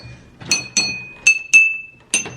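Glasses holding different amounts of water are tapped six times in quick succession, each strike giving a bright, close clink that rings on as a clear sustained tone.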